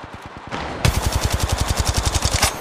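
Rapid automatic gunfire in Apex Legends Mobile on the Kings Canyon map: sparse shots at first, then a loud, steady burst of evenly spaced rounds with no talk.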